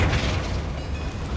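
A Flipendo knockback spell in Hogwarts Legacy lands with a booming burst that opens loud and deep, then rolls on as a rumbling tail that slowly fades, with no voices.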